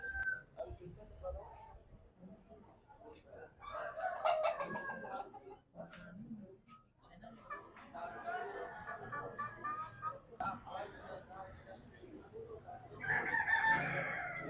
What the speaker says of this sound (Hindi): ये है मुर्गा।